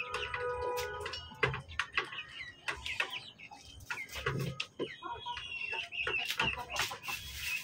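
A chicken that had been sick clucks repeatedly at close range, in short, irregular calls mixed with scratchy movement sounds and a few louder squawks.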